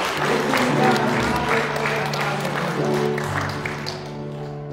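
A church congregation on Easter Sunday claps in praise, a sustained wash of applause from many hands with voices and music murmuring underneath.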